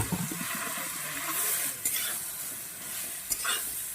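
Radish fries gently in a pan with a soft, continuous sizzle. A spoon scrapes and stirs through it, sometimes clinking on the metal, and the whole thing stays quiet and close.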